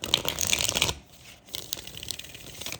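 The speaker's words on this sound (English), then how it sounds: "I just love the way this one just has such a beautiful, like, shuffle." A deck of tarot cards is shuffled in a quick, crisp riffle of papery flutters up close, then a short pause and lighter, scattered card shuffling continues.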